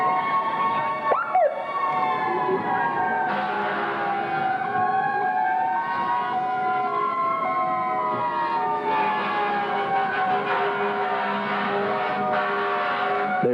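Emergency vehicle sirens blare in a 1988 Berkley Christmas parade on a Saturday afternoon, several overlapping wails rising and falling, loud and near, with a brief horn-like blast early and no talking.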